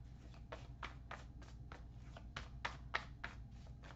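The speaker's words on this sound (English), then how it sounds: "just going to shuffle a little bit more and we will cut your deck" Tarot cards being shuffled by hand, a quiet series of soft riffling bursts repeating about every third of a second, close to the listener, over a low steady hum with no voices.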